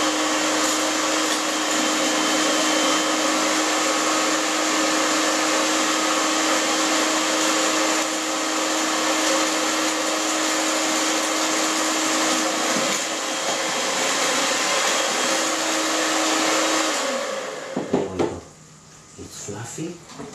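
An electric mixer whirs loudly and continuously while beating egg, oil and sugar until fluffy for a banana trifle cake, holding a steady pitch for about seventeen seconds before winding down, then clattering bowl and utensil sounds.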